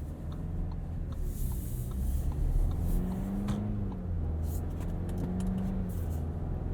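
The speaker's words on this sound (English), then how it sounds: "You can hear the 2-liter turbo." A 2021 Audi Q7 45 Premium with a 2-liter turbo engine and 8-speed automatic hums steadily while driving, a low gruff drone with slowly rising tones, loose items rattling faintly in the cabin.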